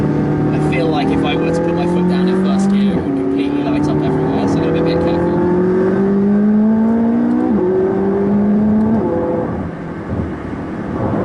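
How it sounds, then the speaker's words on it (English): McLaren 675LT engine accelerating hard through quick upshifts, each rising engine tone cut by a rapid shift, with pops after the lift-off, heard from inside the car while a person talks over it. "The shifts are so fast, and the backfire it makes when you do it is awesome."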